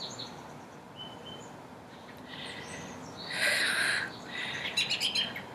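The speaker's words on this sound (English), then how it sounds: "Birds are coming in." Birds chirp outdoors, with a single sparse call early on and then a closer, louder burst of bright tweets and quick chattering notes near the end.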